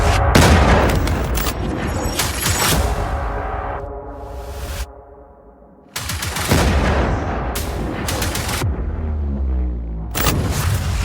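A loud blast at a shop in a market street, captured on security camera, followed by repeated booming bangs like firecrackers going off, with brief quieter gaps and heavy rumbling between bursts.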